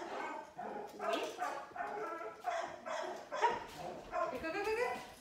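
A young hound and an Australian cattle dog at an outdoor training session give a string of close barks, yips and whimpers in quick succession, with a person's voice faintly mixed in.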